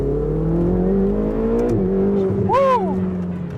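A Ferrari 488 GTB engine drones steadily at close range, its pitch holding and then stepping up as the car accelerates, with a brief rising whine near the end.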